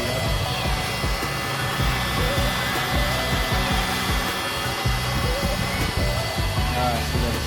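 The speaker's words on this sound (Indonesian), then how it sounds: "Kita tinggal cabut saja dan matikan pompanya." Electric air pump steadily inflating a Pavillo air mattress indoors, a continuous loud whirring blower hum that holds level throughout without a break.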